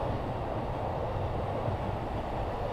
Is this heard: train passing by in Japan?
yes